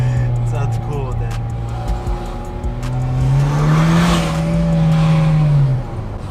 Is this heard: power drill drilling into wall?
no